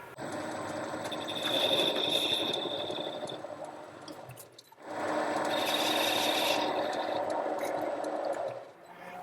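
A file rasps back and forth against a metal part, putting a chamfer on its edge in two long, steady bursts of close, gritty scraping separated by a short pause.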